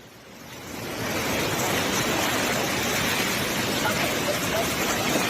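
A loud, continuous roar of a tsunami wave rushing and crashing in Indonesia, building quickly in the first second and then holding steady as a broad, churning wash.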